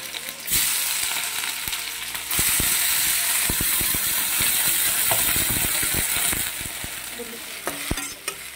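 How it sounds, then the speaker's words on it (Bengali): Sliced potatoes hit hot oil in a wok and break into a loud, steady sizzle with scattered crackles and spatter, close up and continuing throughout. "তো কেটে রাখা এই যে আলুগুলো দিয়ে দিচ্ছি।"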